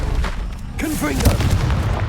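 A Confringo explosive spell blast in Hogwarts Legacy gives a deep, loud, booming rumble, with a voice calling out over the blast.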